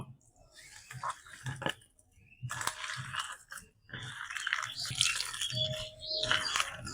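Hands knead chicken pakora mixture with chili powder and a little water, producing wet, squishy squelches in repeated bursts with short pauses, close and moderately loud.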